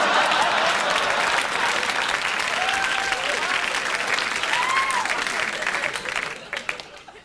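A live audience applauds at an impressionist championship on a comedy show, a dense sustained wash of clapping with some whoops, steady and full before thinning out near the end.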